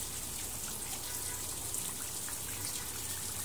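Steady rushing spray of water from a shower, an even hiss like rain with no breaks, moderately faint and heard alone.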